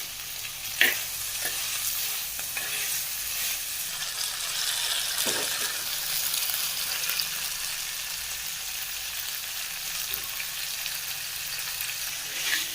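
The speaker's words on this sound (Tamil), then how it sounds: "இப்போ வந்து முருங்கைக்காய் சேர்த்துக்கலாம். இதை நல்லா வதங்கட்டும்." Drumsticks sauté in a village clay pot with tomato, onion and garlic for a dry fish curry, giving a close, steady sizzle broken by a few sharp spoon scrapes against the pot.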